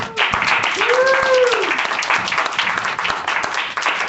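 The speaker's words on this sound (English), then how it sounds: "let's thank our panelists with another round of applause" Audience applause for panelists at a cultural institute panel discussion, a steady crowd of clapping hands throughout, with a voice cheering or calling out briefly over it.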